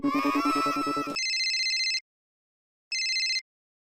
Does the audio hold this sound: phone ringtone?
yes